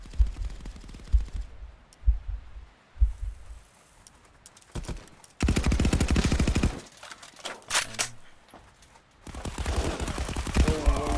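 Gunfire from a VR shooter video game, heard as scattered single shots early on, then dense sustained bursts of rapid automatic fire, loud and close with no talking.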